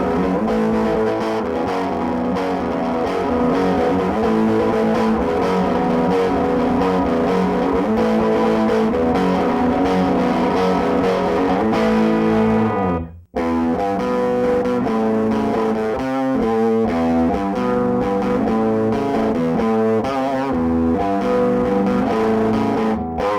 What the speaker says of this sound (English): I can get a nice, crunchy, distorted sound at a relatively low volume.